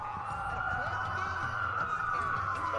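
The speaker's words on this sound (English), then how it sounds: "Like a lot of sirens for a blackout" Police sirens wail in the Watch Dogs video game, several overlapping sweeping tones rising and falling continuously over a low rumbling background.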